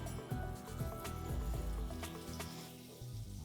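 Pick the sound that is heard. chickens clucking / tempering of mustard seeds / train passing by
tempering of mustard seeds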